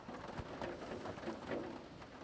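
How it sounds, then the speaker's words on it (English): Steady rain falls outside a chicken brooder on an off-grid homestead, a continuous broadband patter at moderate level running through the whole moment, with no talking. "if you guys can hear the rain. It's raining while I'm trying to do these voiceovers."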